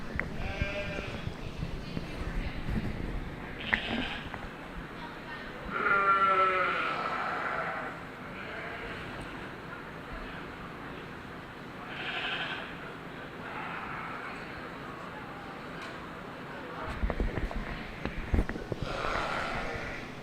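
Yearling Horn Dorset ewes bleating at a youth breeding sheep show ring, several calls scattered across a noisy arena backdrop with a faint announcer voice.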